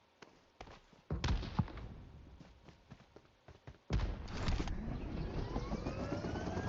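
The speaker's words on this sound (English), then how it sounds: "Yeah, I hear footsteps." In PUBG Mobile, game footsteps sound as a scattered series of soft thuds and taps, with several louder impacts and engine-like noise building toward the end.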